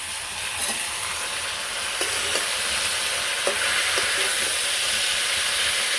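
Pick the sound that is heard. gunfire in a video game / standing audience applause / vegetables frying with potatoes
vegetables frying with potatoes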